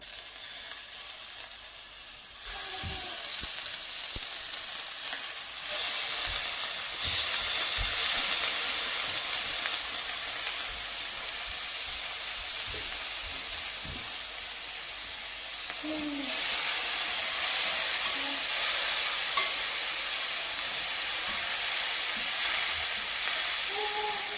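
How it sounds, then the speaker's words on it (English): Steady, loud sizzling of bacon frying in a pan, a constant hiss with occasional soft pops and clinks. "we're now going to fry the bacon"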